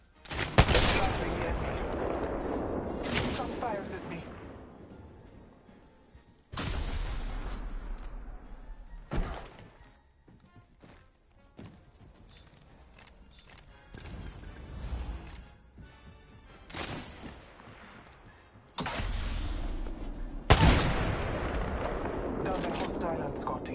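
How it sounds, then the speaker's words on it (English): Gunfire in a PS4 video game, loud bursts of rapid shots breaking out several times between quieter stretches, with crashing impacts and voices talking now and then. "Shots fired at me."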